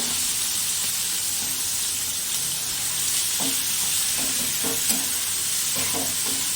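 Prawns and onions fry in a pan with a steady sizzle, while several short scraping stirs cut through near the end.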